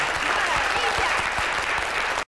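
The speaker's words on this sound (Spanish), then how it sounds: "¡Otro aplauso!" Sustained audience applause at a tribute to a singer, a dense wash of clapping with a few voices mixed in, cutting off abruptly near the end.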